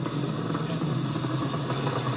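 A SpaceX Crew Dragon rocket launch roars as a steady, dense, crackling rumble, continuous and unbroken throughout.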